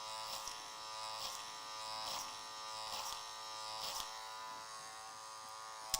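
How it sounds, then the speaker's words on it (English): Electric hair clipper cutting hair in a clipper-over-comb technique, a steady faint buzzing hum with soft rhythmic pulses of the blade moving through hair, no talk. "clipper over comb gets the bulk done"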